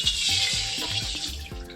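Water being poured into a wok while cooking sweet and sour spare ribs with cucumber, a steady broadband splashing rush running throughout with low gurgling thumps beneath.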